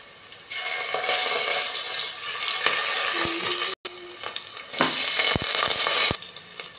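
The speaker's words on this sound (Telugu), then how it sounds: "నూనె వేడైన తర్వాత 1 టేబుల్ స్పూన్ ఆవాలు, ఆనియన్స్, 1 టేబుల్ స్పూన్ అల్లం వెల్లిపాయ పేస్ట్" Mustard seeds, onions and ginger-garlic paste fry in hot oil with a steady, loud sizzle. A few brief clinks and stirring knocks break in, and no one speaks.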